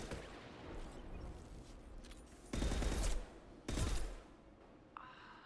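Two loud bursts of rifle fire, each about a second long, in the video game Mass Effect, punching through a busy battle background with a short gap between them.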